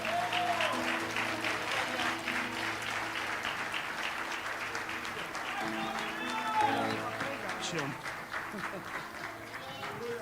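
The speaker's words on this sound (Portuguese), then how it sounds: "Uma salva de palmas, pastor Claudinei" A congregation gives sustained applause for pastor Claudinei at a church's tenth anniversary celebration, steady clapping behind music and voices.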